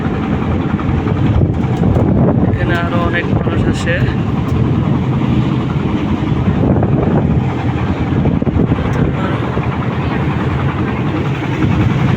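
Wind sweeping across the Itna-Mithamoin haor wetland, a loud, steady, rumbling buffet that fills the whole stretch, with a person talking over it.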